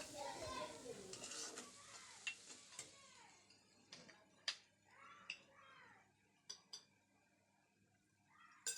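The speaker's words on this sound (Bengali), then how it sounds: "মশলাগুলো কষিয়ে নিচ্ছি ভালো করে।" Spices frying in a pan with onion, garlic, cumin, turmeric and chili, stirred with scattered scrapes and clinks of a utensil against the pan over a faint sizzle, quiet and close, with a little talk partway through.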